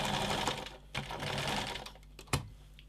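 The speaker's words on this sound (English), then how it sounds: "and we'll sew the last armhole." Sewing machine stitching the last armhole of a cotton apron dress, a steady continuous mechanical whir close by with brief pauses and a sharp knock near the end.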